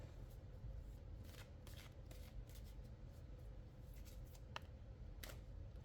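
Quiet tarot cards being shuffled by hand, soft riffling and sliding with a few sharper snaps, close and low in level over faint background hum.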